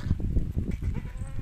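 A dairy goat at a livestock market bleats in short, loud, close bursts amid general farmyard noise, with no clear speech over it.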